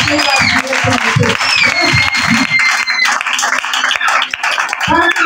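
A church congregation applauding during a worship service, loud dense clapping mixed with shouts and a singing or preaching voice over it, with a short lull before the clapping swells again.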